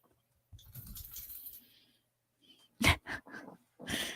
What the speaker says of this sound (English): The dogs were a little annoyed.